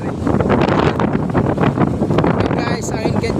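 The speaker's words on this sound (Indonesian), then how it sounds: "Guys, angin kencang ini." Strong wind roars and buffets the microphone over rough, whitecapped sea near the Aru Islands, with waves surging around a boat; loud and continuous, with a person speaking faintly beneath it.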